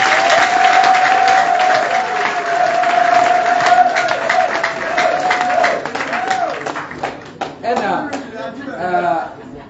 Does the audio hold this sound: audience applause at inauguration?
yes